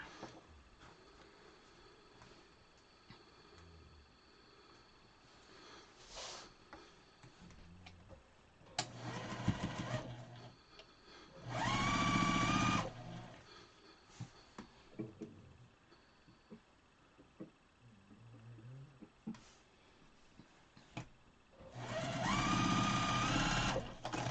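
A sewing machine stitching quilt pieces, with short bursts of running broken by pauses, clicks and handling noises, and two longer stitching runs.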